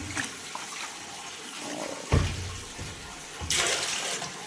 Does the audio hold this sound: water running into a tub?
yes